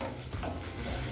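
Kashmiri chilies sautéing slowly in hot oil, a steady close sizzle and crackle with faint stirring, no voices.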